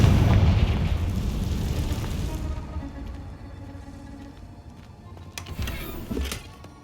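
Confringo fire-blast spell going off in Hogwarts Legacy, a loud rumbling blast that slowly decays over several seconds, followed by a few lighter pops and crackles near the end.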